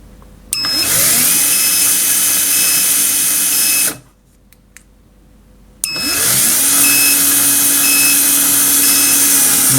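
A sliding gate drive motor running, a loud steady mechanical whine with a high tonal hum that stops abruptly, leaves a stretch of near silence with faint clicks, then starts up again and ramps to full speed.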